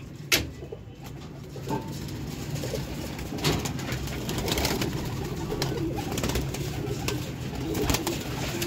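Pigeons coo repeatedly close by, soft throaty calls rising and falling over a busy background murmur, with an occasional sharp tap or click.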